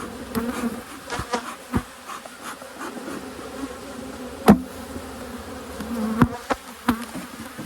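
Honey bees buzz steadily close by around their hive during a fall inspection, with occasional sharp knocks and taps breaking through the hum.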